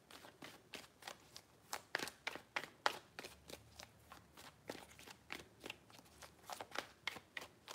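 Tarot cards being shuffled by hand, a rapid series of crisp riffling snaps and slaps in an uneven rhythm, close and fairly quiet, with no talk.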